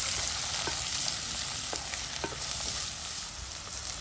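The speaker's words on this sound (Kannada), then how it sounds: "1 ನಿಮಿಷ ಇದನ್ನು ಹೀಗೆ ಫ್ರೈ ಮಾಡುವ. 1 ಈರುಳ್ಳಿನ ಹಾಕ್ತಾ ಇದ್ದೀನಿ." Onion and raw banana fry in a pan with a steady, dense sizzle, close up, with faint stirring scrapes now and then and nobody speaking.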